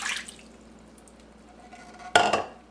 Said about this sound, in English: Into a pot, pour 1 1/4 cups of water